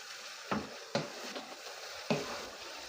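Minced meat for a Kayseri yağlaması filling sizzles steadily in a pan, broken by three or four scraping stirs of a spoon, close and fairly quiet, with no voices.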